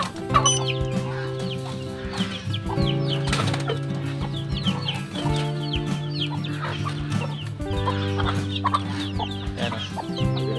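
A native heritage hen and her chickens clucking close by, with steady repeated clucks and higher chirps layered over each other and a brief burst of wing flapping.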